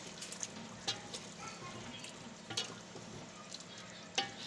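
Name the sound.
stirring chopped brown onions into frying chicken korma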